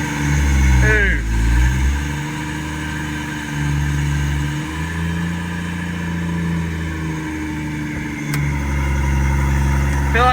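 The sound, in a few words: Ford FG XR6 Turbo engine revving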